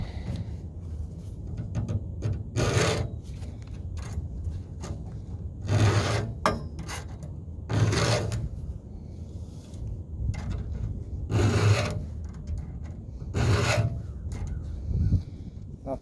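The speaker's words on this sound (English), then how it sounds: "let me do a little bit of sharpening here" Hand filing of a ripping chainsaw chain used in an Alaskan mill for white oak, heard as repeated rasping file strokes in short bursts a couple of seconds apart, close and moderately loud, with no talking.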